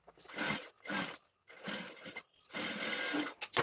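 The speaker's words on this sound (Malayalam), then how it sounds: "ആ ഭാഗത്തും സിബിൻ്റെ മറ്റേ അറ്റം സ്റ്റിച്ച് ചെയ്തെടുക്കുക." A sewing machine stitches the far end of a zip onto cloth for a homemade bag, running in four separate bursts of steady whirring with brief pauses between them, close and loud with no voices.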